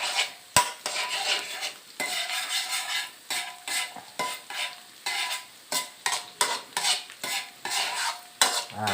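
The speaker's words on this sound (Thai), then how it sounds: "เราเจียวกระเทียมให้เหลืองก่อนครับ" Garlic frying in a pan until golden, a steady sizzle broken by repeated stirring scrapes in an uneven rhythm, close and fairly loud with no talk.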